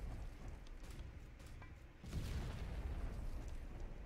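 Grenade blasts in a video game, a low rumbling boom rising midway and sustaining through the second half at moderate loudness, with no talk over it.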